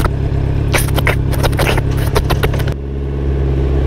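A car engine pulls hard and loud under acceleration with a steady low drone and some rattle, then shifts tone as the revs drop.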